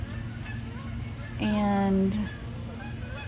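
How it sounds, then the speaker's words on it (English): A goose gives a loud honk over steady background noise, with a brief spoken word nearby. "I'm competing with the geese."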